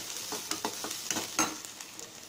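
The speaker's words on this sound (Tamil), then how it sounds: "வெங்காயம் நல்லா வதங்கிடுச்சு ஃப்ரெண்ட்ஸ்" Onions sautéing in a pan for a cabbage kootu, with a soft continuous sizzle and a series of quick spatula scrapes and stirs, close up and moderately quiet, no voices.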